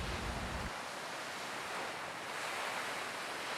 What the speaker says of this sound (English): right here, those waves, that undertow, they were pulling me right back out